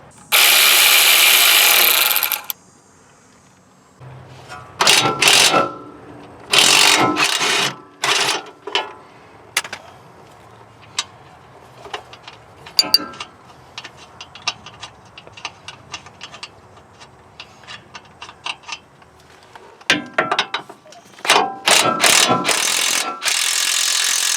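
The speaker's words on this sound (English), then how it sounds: "I'm going to remove the bottom 19 millimeter shock bolt." A ratchet working the 19 mm bottom shock bolt on a Nissan Titan during CV axle replacement, with close, sharp bursts of rapid clicking separated by short pauses and quiet gaps.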